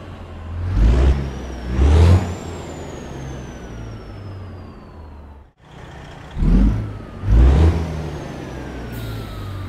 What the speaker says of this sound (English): We changed this engine, and let me see if you like it.